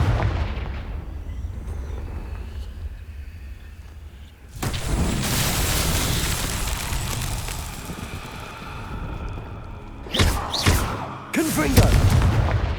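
Confringo blasting spells fired in Hogwarts Legacy, a run of heavy booming blasts that start about a third of the way in and rumble loud and close, with a few sharper bursts near the end.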